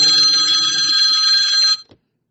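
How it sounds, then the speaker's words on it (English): A phone ringing loudly and close, a bright trilling electronic bell tone that holds steadily and then cuts off abruptly, leaving silence. "Sorry about that phone call."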